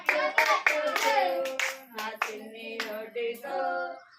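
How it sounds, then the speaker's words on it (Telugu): Children clap their hands while singing a children's Jesus song in Telugu, the bright young voices carrying the melody loudly and continuously with claps woven under the singing. "నా చిట్టి చేతులతో చప్పట్లు కొట్టుచు, నా చిన్ని నోటితో యేసయ్య పాట పాడేదం"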